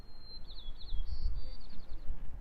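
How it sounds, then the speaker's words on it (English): Faint birds chirping in the background on a hiking trail, short tweeting calls repeating over a low rumble of outdoor noise. "Can you guys hear the birds in the background?"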